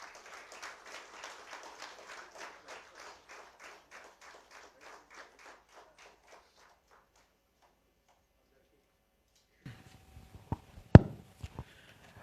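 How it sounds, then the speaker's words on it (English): Applause from a conference audience at a direct selling gathering in Telangana, dense clapping that thins out over several seconds to silence, followed by a few sharp knocks and taps. "ఒకసారి గట్టిగా చెప్పట్లండి"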